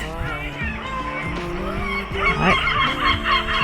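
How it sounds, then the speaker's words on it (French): Seagulls cry repeatedly by the sea, heard from a large terrace with a sea view: overlapping honking calls over a constant outdoor background, growing louder toward the end. "Et on a la vue sur la mer, des mouettes."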